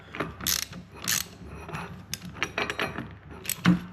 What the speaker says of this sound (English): Just slide that 1/2 inch socket right underneath,